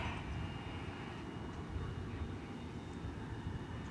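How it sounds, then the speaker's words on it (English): An American Airlines Boeing 787-9 climbing out from DFW Airport, a steady broad low engine roar that holds evenly without a clear peak, distant and fairly faint. "it's an American Airlines 7879 off to Roma. Just took off from the east side."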